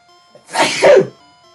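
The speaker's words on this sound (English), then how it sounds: "I had to sneeze." One close, loud sneeze with a quick inhale and a sharp burst, standing alone over a faint background hum.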